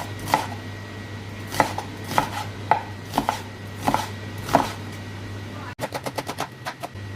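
Steady knife chops through onions on a board, spaced about half a second apart, then a quicker burst of rapid chopping near the end over a faint hum.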